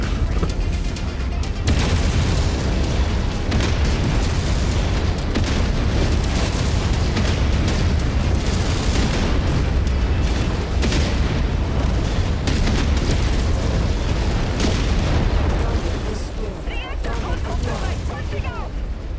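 Mech explosions in the MechWarrior 5 game, played in VR: a loud, sustained roar of deep booms and blasts running almost without a break, with voices heard faintly underneath.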